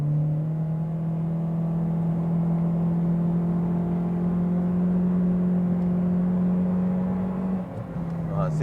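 A Honda CR-Z in sport mode hums with a steady engine drone from inside the cabin, holding a constant pitch before a brief dip near the end, with someone talking over it.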